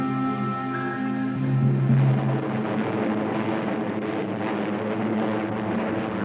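Japanese aircraft approach Pearl Harbor, their engines a steady, loud, droning hum that holds evenly throughout with no speech.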